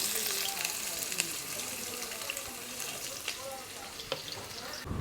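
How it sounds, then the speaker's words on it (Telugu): Thinly sliced onions fry in a pan for a chicken curry, giving a soft, continuous crackling sizzle with occasional stirring clicks and light clatter, faint and without talk. "మనం తీసుకున్న ఉల్లిపాయలన్నింటినీ ఈ మాత్రం కొద్దిగా గోల్డెన్ బ్రౌన్ కలర్ వచ్చేంత వరకు వేయించుకోవాలి."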